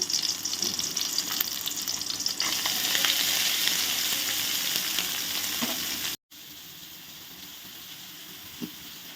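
Steady, loud sizzling of onions and amaranth greens frying in hot oil, with occasional stirring scrapes; a brief cut of silence near the end before quieter sizzling resumes.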